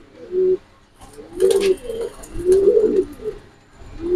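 Budapest pigeons at a pigeon farm cooing in repeated low, throaty bursts, several overlapping calls spaced through the clip, close and fairly loud against faint background noise.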